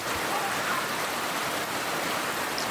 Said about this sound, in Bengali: বৃষ্টির টাপুর টুপুর শব্দে মনটা ভরে যায়